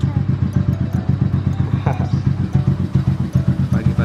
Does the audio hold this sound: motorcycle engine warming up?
yes